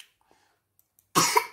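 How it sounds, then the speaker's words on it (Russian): A single sharp cough, close and loud, after a second of near silence with a few faint clicks. "Кто кашляет?"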